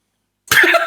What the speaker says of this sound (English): a loud cough in the background